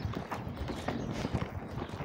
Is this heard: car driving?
no